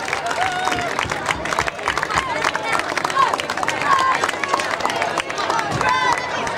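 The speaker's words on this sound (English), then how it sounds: "Let's give both these teams a nice round of applause" Crowd applause at a high school football game, a busy mix of clapping, cheering and crowd babble with a voice over the public address heard through it.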